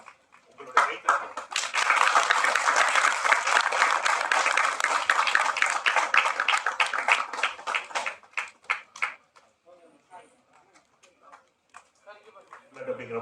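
An audience at a Tamil film audio and trailer launch breaks into loud, sustained applause for several seconds before it thins out into scattered claps, with a voice over a microphone before and after.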